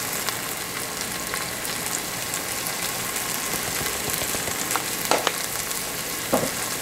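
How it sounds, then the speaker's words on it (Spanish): Mondonguito (tripe) sautés steadily in a pan with Goya seasoning containing pepper and half a teaspoon of cumin, giving a loud, continuous sizzle with a couple of brief spoon clinks near the end. "De ahí vamos rehogando esto."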